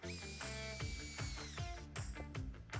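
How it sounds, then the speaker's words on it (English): A power drill with a 3/8 bit bores through a rubber grommet during trailer wiring work on a Tesla Model 3, its close, steady whine surging and dipping in short repeated pushes with no voices. "Drill a hole out of the center of the grommet using a 3/8 drill bit and a pair of needle nose pliers to keep your fingers clear."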